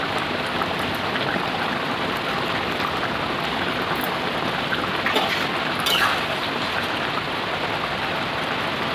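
Heavy rain falls outside in a steady, dense hiss that does not let up, with a faint clatter or two rising briefly above the downpour.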